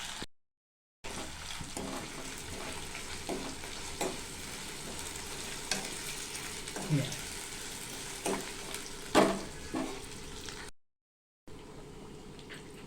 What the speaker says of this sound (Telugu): ఇప్పుడు అల్లం వెల్లుల్లి పేస్ట్ వేసి బాగా కలుపుకుందాం